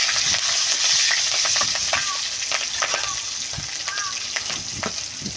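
Bay leaf and slit green chillies sizzle in oil in a pan, crackling steadily up close while a spoon stirs them with light scraping taps.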